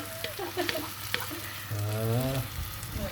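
Red lentils tumble into a hot pan for soup, setting off a steady sizzle and stirring scrapes, with a louder, rising hiss near the middle as they hit the oil.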